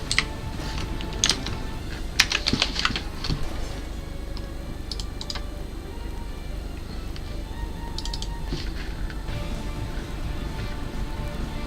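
Computer keyboard typing in bursts, with clusters of sharp clicking keystrokes early on and again near the end, separated by quieter gaps over a low background hum.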